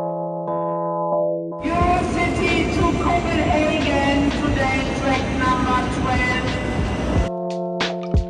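Interior of a passenger train on an Interrail journey to Copenhagen: steady loud rumble of wheels and carriage with tonal hums, beginning abruptly after quieter tonal sounds and cutting off near the end.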